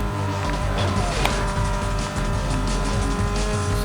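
A car in Need for Speed: Most Wanted brakes hard, its tires squealing and skidding loudly and continuously over a droning engine, up close and alone with no talk.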